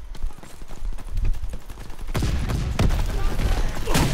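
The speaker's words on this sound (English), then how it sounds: "This guy's shooting at me" Video game gunfire crackles in quick bursts, dense and loud in the second half after sparser shots earlier, with a player talking over it.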